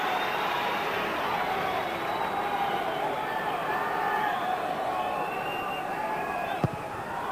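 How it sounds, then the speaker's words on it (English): Football fans at a Rangers versus Milan match in a stadium make a broad, distant crowd roar under steady commentary, with a single sharp knock near the end. "And the fans now cheering Arteta"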